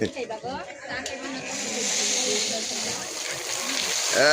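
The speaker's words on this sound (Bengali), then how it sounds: "দেখ ঝর্ণা ছেড়ে দিছে।" A water fountain being switched on at a garden-style rest spot, with a steady splashing and hissing rush of water building and holding loudly while children and adults chatter nearby.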